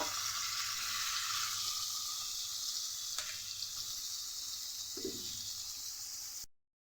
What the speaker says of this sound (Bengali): আর হলুদ দিয়ে আলুটাকেও সুন্দর করে ভেজে নেব।